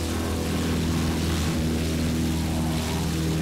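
Damaged propeller plane droning steadily in Battlefield 1943 over the Coral Sea, a loud continuous engine hum with a brief dip midway and no talking.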